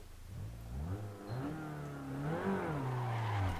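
A car in the driving simulator Assetto Corsa on Tokyo's Shuto Expressway does a burnout. The engine revs hard and rises and falls through several pulls while the tires squeal underneath, loud and close throughout.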